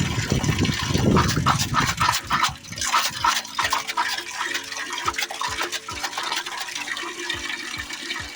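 Water rushes and splashes from a pipe, strong at first and then settling into a steady flow, with a series of sharp knocks or drips in the background.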